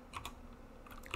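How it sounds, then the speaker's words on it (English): Keys tapped on a computer keyboard while entering a list of numbers, a few quick clustered clicks near the start and again near the end, fairly faint over a steady low room hum, with no voices. "So here I'm typing it in by hand"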